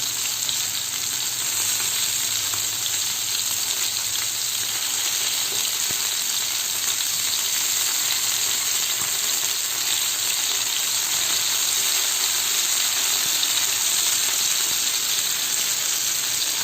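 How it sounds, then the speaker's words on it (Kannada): Food sizzles steadily in a frying pan, a loud, continuous crackle with no pauses that runs unbroken throughout, with no voices. "ಇವಾಗ ಒಂದು ಸೈಡ್ ಫ್ರೈ ಆಯಿತು"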